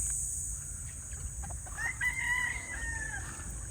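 A gamefowl rooster crows once at a moderate distance on a gamefowl farm, over a steady low background hum, with a few faint clucks from nearby fowl.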